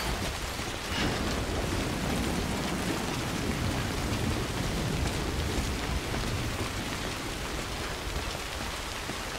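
Nonstop rain in the video game Death Stranding pours as a loud, dense wash of drops on surfaces, with a low rumble beneath and no voices.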